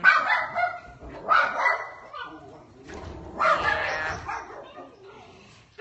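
Small Chihuahua dogs bark and yip in several loud, sharp bursts close by, with a brief whimper between them and faint human voices now and then.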